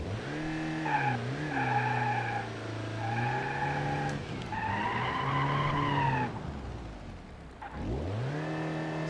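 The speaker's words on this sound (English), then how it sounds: "See if we can do a little front wheel drive burnout." Front-wheel-drive car doing a burnout in BeamNG Drive, engine revving hard in repeated surges with tire squeal layered over it, a brief drop, then revving climbs again.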